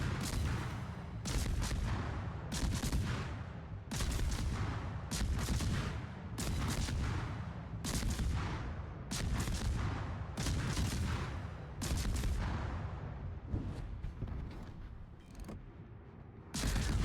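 Destroyer Forrest Sherman's naval guns in World of Warships fire in heavy, evenly spaced booming salvos, each followed by a long decaying rumble, about a dozen across the stretch, loud and with no talking over them.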